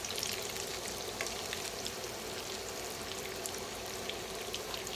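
Egg foo young fries in a pan of oil, a steady, close crackling sizzle with tiny pops that keeps going the whole time, with nobody talking.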